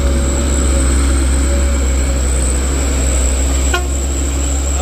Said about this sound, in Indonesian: truk polisi dump truk mencoba lewat dengan kondisi jalan yang sempit